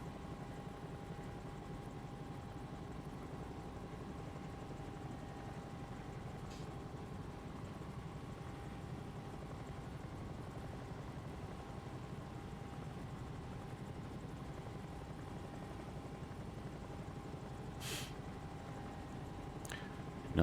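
A Bell 222 helicopter flies in challenging weather over Kodiak Island, a steady droning rotor and engine hum heard from inside the cabin, even and continuous throughout.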